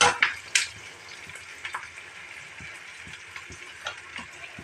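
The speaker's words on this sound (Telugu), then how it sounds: "ఉడికినట్టు బాగా వేగాలి" Steady low sizzle of frying in a pan while cooking egg curry, with a few sharp clinks and stirring scrapes near the start, close up and fairly quiet, with no talking.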